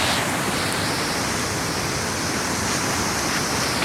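Waterfall in Big Cottonwood Canyon, a loud, constant broadband roar of rushing water filling the whole stretch without pause or voices.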